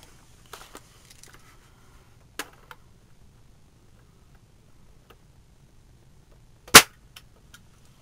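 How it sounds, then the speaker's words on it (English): A single sharp crack from a Well L96 Warrior airsoft sniper rifle firing a BB through a chronograph, loud and isolated after several faint clicks and handling ticks in a quiet room. "Okay, shot number 1."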